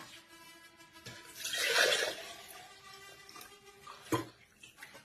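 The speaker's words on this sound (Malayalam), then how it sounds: "ഇനി വെള്ളം ഒഴിച്ചു കൊടുക്കാം." Water is poured onto juice powder in a container. A short splashing pour swells in the middle, and a few clinks and drips follow. No voices can be heard.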